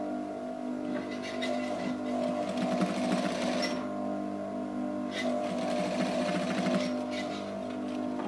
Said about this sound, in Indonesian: Kita jahit ke atas.